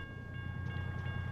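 A train rolls past in the American Truck Simulator driving game, a steady low rumble with faint tonal lines above it, running continuously through the brief moment.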